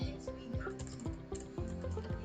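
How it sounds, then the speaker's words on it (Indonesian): Keys on a computer keyboard click in a steady run of distinct presses, close and crisp, while someone works in a word processor, with faint background tones underneath. "kalian bisa menggunakan tab yang ada di keyboard untuk menggeser 1 cm ke kanan ya"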